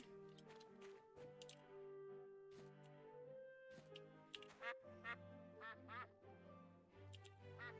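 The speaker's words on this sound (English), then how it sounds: "Don't pet the same duck again" Ducks quacking in the farming video game My Time At Portia, several short nasal calls in the second half over steady cheerful game music, fairly clear and close.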